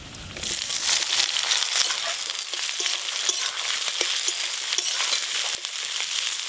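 Onion added to hot oil with whole spices (dry red chilli, clove, cardamom, cinnamon, cumin, bay leaf) in a pan for chicken kosha, a loud continuous close sizzle and crackle with occasional stirring scrapes.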